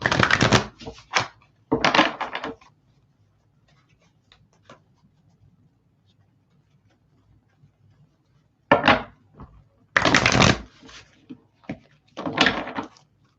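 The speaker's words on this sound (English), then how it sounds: "Let's do 2 more shuffles." Several bursts of crisp riffling and slapping as tarot cards are shuffled, in clusters separated by quiet stretches, close and fairly loud.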